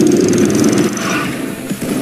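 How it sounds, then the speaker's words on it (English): A placed drill whirs loudly in Payday 2 during a yacht heist, a steady mechanical grind that is close and continuous, then dips and sputters near the end with no voices. "I have to go put another drill down."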